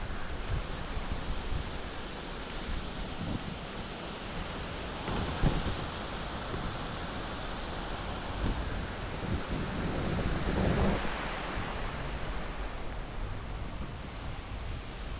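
Water rushes steadily through the lock-controlled channels of a dam in Goffstown, making a soft, continuous broadband roar with gusts of wind buffeting the microphone at a distance.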